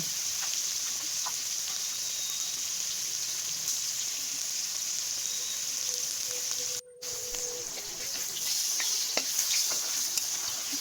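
Ash gourd pieces fry in hot mustard oil in a wok, giving a steady, close sizzling hiss that runs throughout with only a brief dropout.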